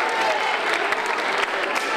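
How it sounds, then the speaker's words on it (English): An audience applauds volunteers who solved problems on stage at a creative puzzle show, a brief burst of crowd clapping with some voices mixed in. "Big applause to the volunteers"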